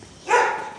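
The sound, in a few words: dog barking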